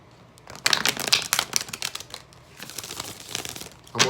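Tarot cards from the Dreams of Gaia deck being shuffled by hand, a run of quick papery riffles and flicks at close range, rising in bursts before a card is drawn.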